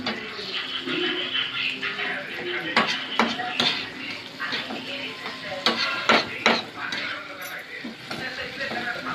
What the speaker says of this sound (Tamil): நல்லா கிளறி நல்லாக கிண்டவும்